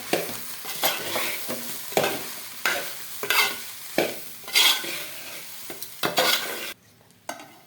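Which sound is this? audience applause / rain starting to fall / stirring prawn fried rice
stirring prawn fried rice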